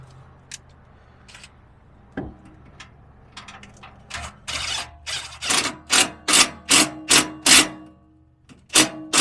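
Bolts being tightened on the bracket of a front leveling jack on an RV fifth wheel: scattered clicks and scrapes, then a run of regular ratcheting bursts roughly once a second, close by and alone.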